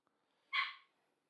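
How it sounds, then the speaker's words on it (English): A small dog gives a single sharp bark, short and fairly close, standing alone against near silence. "Why is little Caramel barking"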